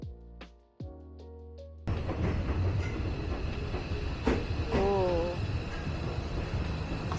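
A train rumbles along the rails from Kinugawa-Koen Station toward Kinugawa-Onsen Station with steady rolling noise and occasional squeals, after a brief quieter stretch with hum and a few thumps.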